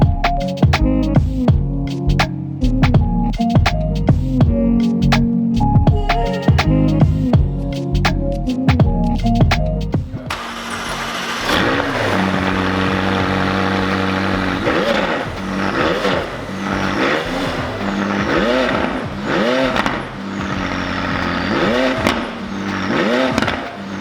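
A Vega Blue McLaren 600LT starting up and pulling away, its engine revving loud and close over a steady roar, with sharp throttle blips and rising, falling engine notes throughout.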